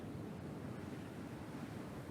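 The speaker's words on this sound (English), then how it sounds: "Wait until the wind gets a little more windy." Wind on the planet Microtech in a video game, a steady, even rushing blow with a low rumble underneath, unbroken and with no speech.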